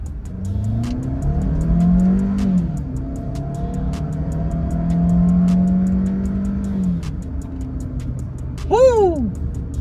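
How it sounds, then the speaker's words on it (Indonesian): A rally-modified Suzuki Fronx in manual mode revs hard while accelerating. The close engine drone climbs steadily in pitch through several pulls, and a sharp rising-and-falling whine comes near the end. "Dan gue sangat suka dengan suara deruman mesinnya itu."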